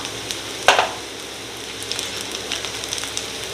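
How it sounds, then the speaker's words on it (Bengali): Chopped garlic and green chilli drop into hot oil for veg Manchurian, giving a sharp burst of sizzle followed by a softer, steady crackle and spatter. "এর মধ্যে আমি এবার দিয়ে দিলাম রসুন কুচি, আর দিলাম লঙ্কা কুচনো।"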